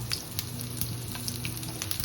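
Onions fry in hot ghee with fennel seeds, a soft steady sizzle with light crackles and faint stirring scrapes.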